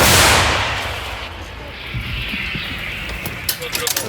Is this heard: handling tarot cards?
no